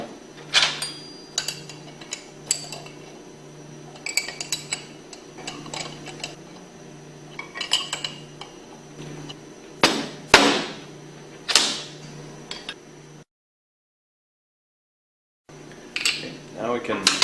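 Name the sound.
bolts being tightened with a 1/2-inch wrench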